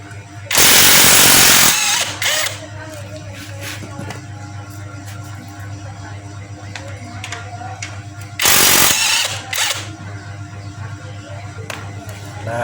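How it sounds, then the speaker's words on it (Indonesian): An impact wrench with a 17 mm socket loosening the axle nuts on a Honda Beat ESP motorcycle, two loud rattling bursts of about a second each, separated by quieter workshop noise. "Nah, sini kita menggunakan impact."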